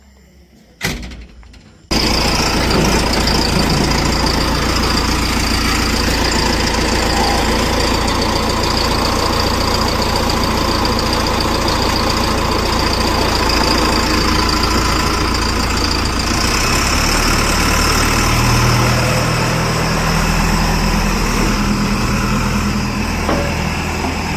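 A machine engine, started after its battery was swapped from a tractor, kicks in after a brief knock and then runs loud and steady, with a continuous knocking, idling rumble close by for over twenty seconds.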